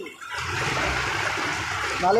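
Gutter water gushes and churns steadily close by as it overflows from a drain in Sector 18, Turbhe, Navi Mumbai. A faint voice sounds briefly near the end.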